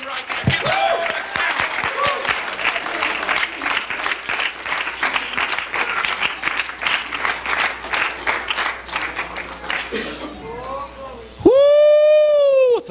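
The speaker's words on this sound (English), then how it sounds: "Give the Lord a clap offering right now." A church congregation at a New Year's Eve service claps together for most of the stretch, with scattered shouts over it before the clapping fades out, and a loud sustained tone comes in at the end.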